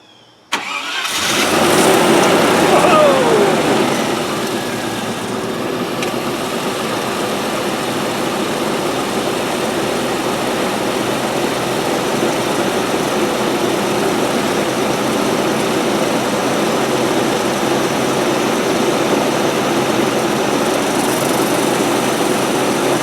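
A 1997 Land Rover Discovery 1 engine cranks and catches, surges loudly for a couple of seconds, then settles into a steady, close idle that holds for the rest of the clip, with no voices.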